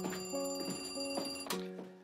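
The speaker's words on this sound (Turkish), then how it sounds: "Ben en iyisi telefona bakayım." A bell-like telephone rings over a continuous tone in a Turkish-dubbed crime drama, repeating in several sharp bursts across two seconds at a steady, fairly loud level.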